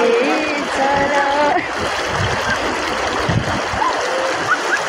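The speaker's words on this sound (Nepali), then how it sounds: "यो खोला चाहिँ हिमालबाट बगेर आएको रे रिम्बी खोला हो" The Rimbi river in Sikkim, a stream fed from the Himalayas, rushes steadily and fills the whole clip with dense, continuous water noise. A few faint, thin tonal calls rise briefly above it.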